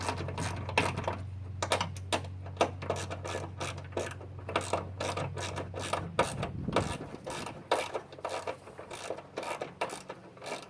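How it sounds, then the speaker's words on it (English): Ratchet tightening bolts on Honda Del Sol hood spacers: rapid bursts of sharp metallic clicks in an uneven rhythm, close and fairly loud, over a steady low hum that drops away partway through. "And all you do now is just tighten down these bolts."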